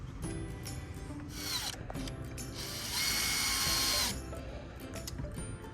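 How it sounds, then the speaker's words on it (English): Screws are started into a wooden goat milking stanchion with a driver, giving a quiet mechanical whirring and clicking ratchet sound. It holds one louder sustained burst in the middle of the clip, with no talk. "I'm pre-putting the screws in. Just getting them started?"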